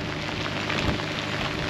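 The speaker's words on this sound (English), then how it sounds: "when we were leaving dock, it started to rain again" Steady rain falling on a sailboat leaving dock at Newport, a dense continuous hiss of drops on the deck and surfaces, close and even throughout with no voices.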